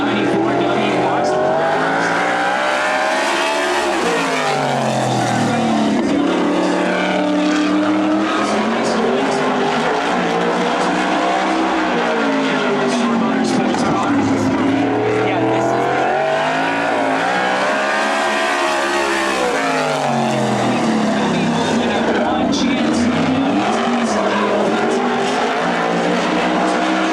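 Sprint race cars at the Daffodil Cup track roar continuously, their engines rising and falling as they pass, with a loud voice talking over the racket throughout.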